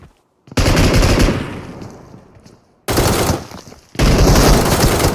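Automatic gunfire in the battle royale game BGMI rips out in three loud, close bursts, each starting abruptly and trailing off, with short gaps between.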